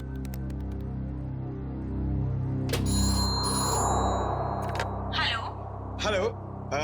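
A phone dialing and then ringing, with short tonal beeps followed by a brief ringing tone, heard under people talking.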